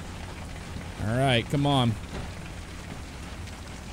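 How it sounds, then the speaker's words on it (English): Hail pelts a storm-chasing vehicle with an already cracked windshield, a dense, steady rattle of hits on the body and glass that runs throughout, while someone briefly speaks over it near the start. "Oh, we're just getting absolutely destroyed by hail right now."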